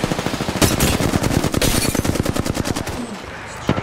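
Rapid video game gunfire, a fast string of loud, sharp shots in quick bursts that fills most of the moment before easing off near the end.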